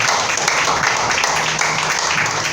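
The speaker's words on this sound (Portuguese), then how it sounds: "Então pode aplaudir o nome de Jesus" A church congregation claps together during a worship service, with a dense, steady burst of applause filling the room, while voices sound faintly underneath.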